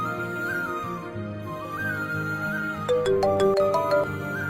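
A melodic phone ringtone plays during an outgoing call. Tonal notes glide over a musical background, then a quick run of sharp repeated chimes sounds near the end, with no one talking.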